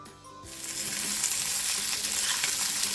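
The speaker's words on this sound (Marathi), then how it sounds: "लसूण छान लालसर झाल्यानंतर त्यामध्ये कट केलेली तोंडली घालून घ्यायची आहे आपल्याला" Sliced ivy gourd (tondli) drops into a pan of browned garlic and oil, setting off a loud, steady sizzle that swells after a brief quiet start and keeps crackling.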